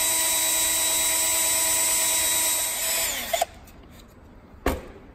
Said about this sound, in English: I'm going to drill a hole in it first